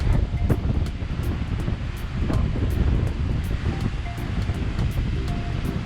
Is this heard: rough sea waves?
yes